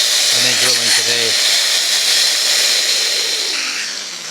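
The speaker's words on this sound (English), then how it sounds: "we can just use it directly on the flat and then drill into there." Festool BHC 18 cordless rotary hammer drilling into a wall, a loud steady high-pitched whine with grinding hiss held for several seconds before tapering off, close up, with a brief voice at the start.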